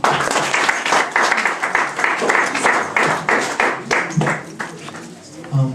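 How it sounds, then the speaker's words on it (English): A workshop audience claps for a community chairman before his closing remarks, a moderate patter of hands with uneven bursts throughout, and voices faintly audible underneath. "Please clap for him."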